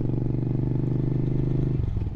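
A motorcycle being ridden hums with a steady, close engine drone that holds evenly before dropping and shifting near the end.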